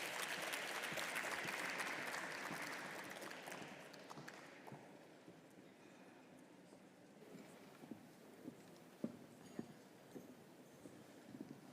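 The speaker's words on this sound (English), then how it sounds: "please join me in giving him and his panel a very warm round of applause" Applause from a conference audience at an AI summit panel, loud at first and then thinning into scattered claps and faint movement before fading to a quiet room.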